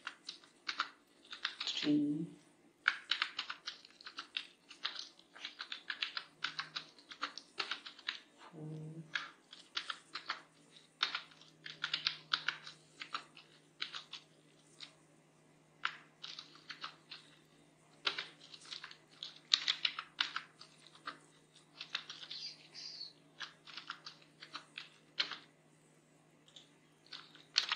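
Rapid clicking of computer keyboard keys comes in uneven bursts and pauses while HTML heading tags are typed, close and moderately loud, with a brief spoken word early on.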